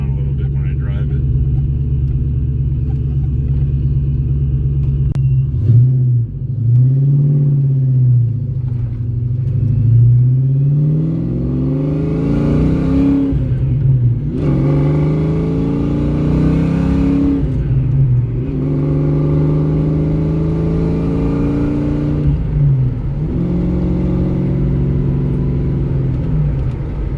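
A Foxbody Mustang on Nitto NT05R tires drives with a loud, steady engine rumble and rising, falling revs throughout, while a person talks over it.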